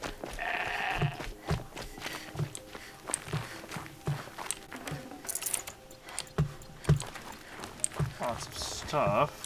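Goat bleating in the snowy world of the video game Horizon Zero Dawn, a couple of short bleats amid rhythmic crunching footsteps, with someone talking over the game sounds.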